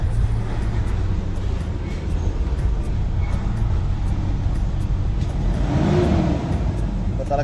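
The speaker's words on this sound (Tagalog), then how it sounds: "Ito talaga andar ng diesel kaysa sa gasolina." A Toyota Innova diesel engine idles with a steady low, rough clatter close by, while someone talks briefly over it.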